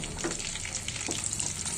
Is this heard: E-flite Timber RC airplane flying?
no